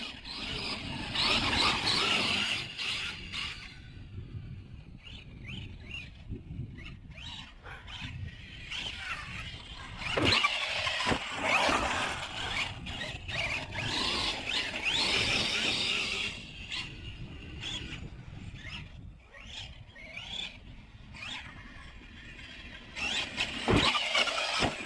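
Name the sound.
Losi 5ive T RC car driving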